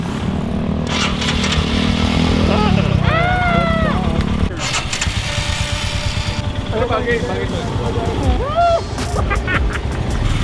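A Royal Enfield Himalayan motorcycle engine starts and runs at a steady, close idle, rumbling continuously beneath several people talking and exclaiming over it.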